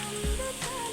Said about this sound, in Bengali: পেঁয়াজ কুচিগুলো বাদামি কালার করে ভেজে নেব